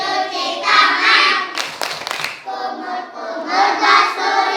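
A class of young schoolchildren claps the rhythmic wudhu clapping pattern together, bursts of loud unison claps in quick patterned groups, mixed with their chanting voices.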